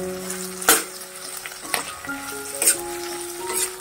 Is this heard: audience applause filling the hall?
no